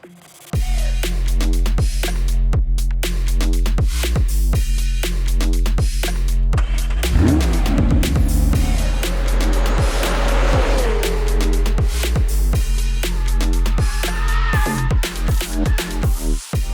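A McLaren 750S sports car drives hard around the Estoril circuit in Portugal, its loud, close engine note holding steady and sweeping in pitch through gear changes, with tire squeal and no talking.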